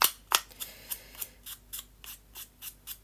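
Scissors snip through paper in a quick irregular series of about a dozen crisp close cuts, alone in a quiet room.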